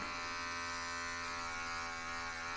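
A Lumberjack electric body hair trimmer runs with a steady, unbroken buzz, close and even throughout, with no voices.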